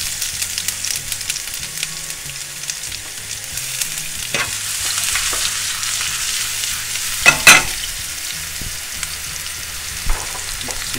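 Cumin, ginger and garlic fry in a pan with a steady, crackling sizzle, punctuated by occasional utensil clinks and stirring knocks.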